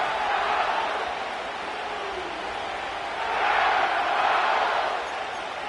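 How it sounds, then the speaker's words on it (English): A stadium crowd cheers at SoFi Stadium in an EA Sports NFL game, a broad, loud roar that swells midway and then eases back, with no clear speech. "The crowd is definitely ready."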